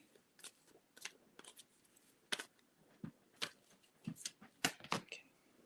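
A deck of cards being shuffled at close range, with repeated bursts of riffling and soft snaps and clicks of the cards in uneven clusters, no talking.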